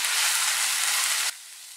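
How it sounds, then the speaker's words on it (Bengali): Potatoes and chopped beans fry in hot oil in a pan, a loud close sizzle that cuts off abruptly near the end. "আলুটা দিয়ে কিছুক্ষণ নাড়াচাড়া করব। এবার শিম কুচোটা দিয়ে দিলাম।"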